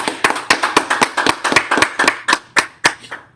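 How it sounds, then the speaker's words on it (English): A congregation at a Sabbath service claps in unison, a loud, close run of about a dozen sharp, evenly spaced claps that slow slightly toward the end, with no talking. "let's clap it up for the Most High."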